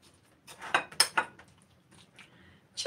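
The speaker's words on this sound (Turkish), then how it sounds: "Şöyle karıştırıyoruz iç malzemesini." A fork scrapes and clinks against a dish while mixing a roasted eggplant and cheese filling, a few sharp metallic taps in quick bursts up close, then quieter scraping.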